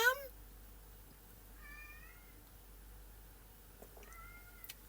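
A cat meows twice, short plaintive calls spaced a couple of seconds apart, fairly close in a quiet room.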